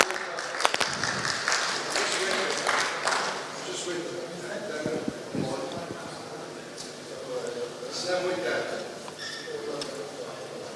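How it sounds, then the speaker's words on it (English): An audience at a dive technology summit claps in a burst of applause that gradually thins out and fades, with talking mixed in throughout. "Can we hear a round of applause?"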